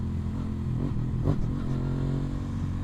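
A modified motorcycle engine runs at close range with an aggressive on-off throttle, its deep, rough idle rising into one brief rev before settling back to a steady throb.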